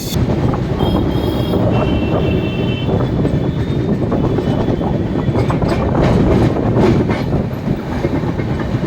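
Tamralipta Express on the Howrah to Digha run rolls along the rails with a loud, steady rumble and rhythmic wheel clatter that lasts the whole stretch, close and continuous with no voices.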